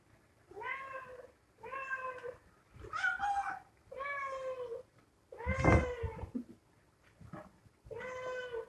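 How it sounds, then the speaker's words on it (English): A garden cat meows repeatedly, about eight separate drawn-out calls spaced at fairly regular intervals, close and clear against a quiet background. "He's a garden cat."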